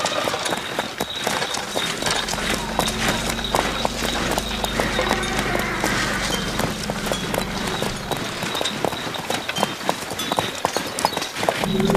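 Horses clip-clopping at a brisk trot on hard ground, a steady, loud run of hoofbeats with a low rumble beneath, no talk over them.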